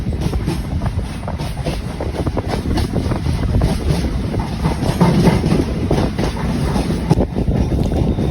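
Strong coastal wind roaring past an elevated MRTS train in Chennai, a loud continuous rush mixed with steady rumbling of the rail carriage and no voices.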